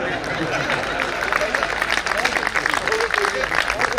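Audience applause at a Hindi comic poetry recital, a dense, steady wash of clapping that fills the whole stretch, with voices mixed in.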